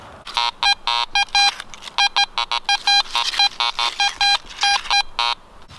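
A metal detector out in the New Hampshire woods sounds a rapid run of short, loud electronic beeps in choppy, irregular bursts, signalling buried targets such as pull tabs and nails, close up and alone with no talk.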